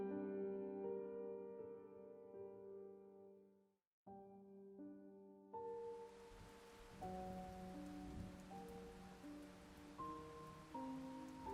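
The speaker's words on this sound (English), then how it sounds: "I've always loved the rain, the gentle tapping soothing to my frayed nerves" Gentle rain taps down in a steady soft hiss that begins partway through, beneath sustained musical tones after a brief silence.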